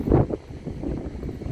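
Wind buffets the microphone in low, gusty rumbles on a hilltop viewpoint in San Sebastián, one strong blast at the start followed by softer, uneven gusts.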